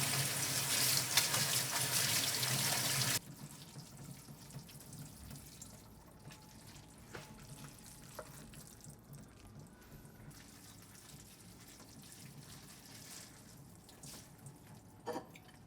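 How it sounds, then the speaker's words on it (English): Cold tap water runs hard over cooked noodles being rinsed by hand in a sink, a loud gush for a few seconds that gives way to softer splashing, dripping and handling. "Let's go and rinse in cold water."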